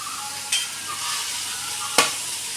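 Coconut oil heating in a pan on a stove gives a steady, close sizzle and crackle, with two brief louder spits or clatters standing out along the way.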